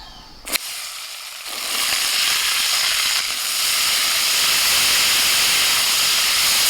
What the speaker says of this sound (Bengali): বিনস গাজর আর মটরশুঁটি এগুলোকে একটু হালকা করে ভেজে নিই